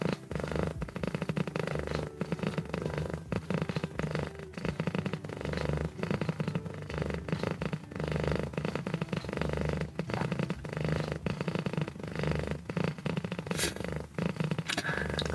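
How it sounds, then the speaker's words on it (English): A soft, steady purr rumbles close to the microphone, a low rhythmic vibration with faint rustling and scratchy handling noises throughout. "we open up the mic so we can hear her purring"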